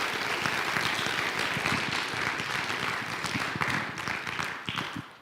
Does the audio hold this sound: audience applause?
yes